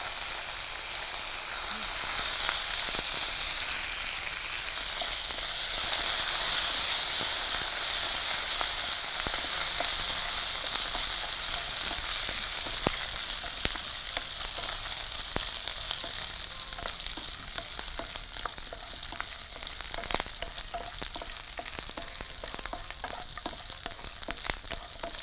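Onion, garlic and curry leaves sauté in a pan with a steady, loud sizzling hiss throughout, broken by faint scrapes and clicks of stirring.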